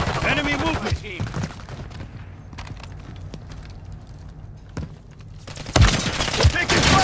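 Gunfire crackles in Call of Duty Modern Warfare 3, with bursts of shots scattered through a quieter stretch and a louder volley near the end, mixed with game voice chatter.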